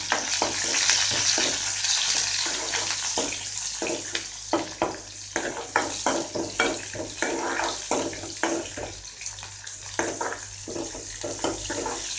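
Onion and curry leaves frying in a pan for radish sambar, a steady sizzle broken by repeated stirring scrapes and clinks, close and alone without talk.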